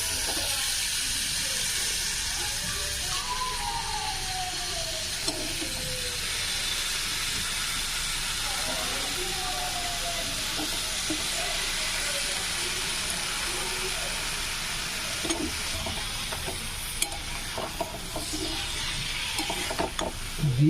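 Diced potatoes frying in oil in a pan for aloo methi give off a steady, close sizzling hiss that runs throughout, with occasional soft scrapes of stirring.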